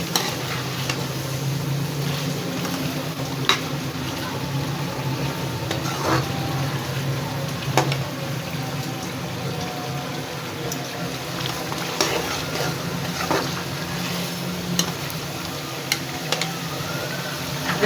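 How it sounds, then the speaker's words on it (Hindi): Chopped carrots sizzle steadily in a pan while a spoon stirs them. Scrapes and light clinks of the spoon recur at irregular intervals over a constant, close frying hiss, and no one speaks. "अब शामिल करते हैं गाजर। ये छोटी छोटी मैंने काट के रख ली थी। इसको भी 2 मिनट के लिए भून लेते हैं।"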